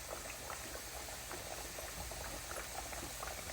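Plantain slices frying in enough oil to cover them in a pan, giving a steady, dense bubbling sizzle that runs continuously and evenly throughout, fairly close, with no voices.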